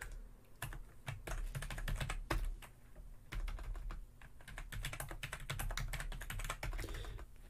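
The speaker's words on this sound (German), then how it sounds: "Da bin ich doch schon wieder an diese Scheiß-Tastatur gekommen." Rapid typing on a computer keyboard close up, a dense irregular clatter of key strikes running nearly continuously with brief pauses, no voices.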